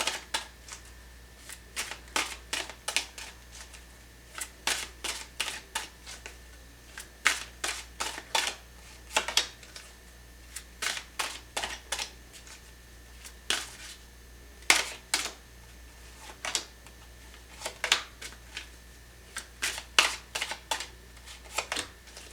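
Tarot cards shuffled and picked in a quiet room, a steady series of crisp, papery riffles and flicks repeating close to the microphone for the whole stretch, with no talking.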